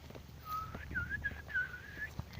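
A man whistles a wandering tune on his way to film a forest, with several rising and falling phrases carried over a low rumble of background noise.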